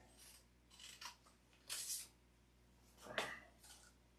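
Scissors snip through sanding material being cut into thirds for a small sanding block, giving a few separate crisp cuts at close range, with quiet pauses between them.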